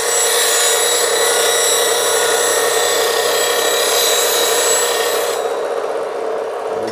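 A lathe tool is held against a 180-grit CBN wheel on a bench grinder. A steady, bright grinding hiss runs continuously, then thins out near the end as the tool lifts away.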